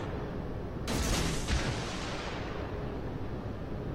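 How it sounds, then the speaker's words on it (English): A destroyer's guns fire a salvo in the World of Warships naval game, a sudden loud boom with a second report half a second later, then a rumbling tail over steady engine and sea noise. "Let's fly next salvo."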